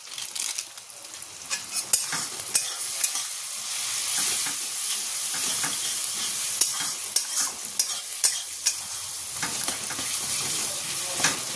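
Spices, salt and turmeric for paneer tarka sizzle and fry in a pan while being stirred, with steady scraping strokes running continuously over a loud, hissing frying bed.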